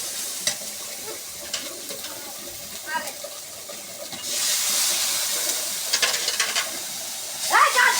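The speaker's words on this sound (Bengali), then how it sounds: "পাঙ্গাস নোনাস করার জন্য ময় মশলা আমার সুন্দর করে কষে দিচ্ছি" Ginger-garlic paste, salt, turmeric and dried chili powder frying in a pan for pangas fish, a steady soft sizzle that swells louder midway, with scattered stirring clicks and a voice speaking over it.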